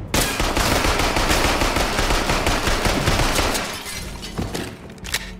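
Rapid, dense automatic gunfire rattles continuously in a video game shooter such as Fortnite, Valorant or Call of Duty, loud and close, easing off near the end with a few separate sharp shots.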